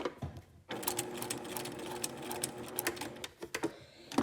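A sewing machine runs in a fast steady rattle, stitching close along a welt, after a brief quiet start, with a few sharp clicks and pauses near the end.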